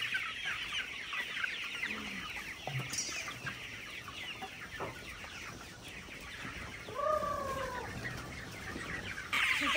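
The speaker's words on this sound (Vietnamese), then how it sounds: "Mình đang đi săn gà nhé." Chickens on a farm of 45-day-old birds cluck sporadically, with a few close calls rising above a dense, steady murmur from the flock.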